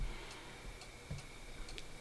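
Cuckoo clock in a quiet room giving soft, steady ticks at an even pace, faint and close, with no voices.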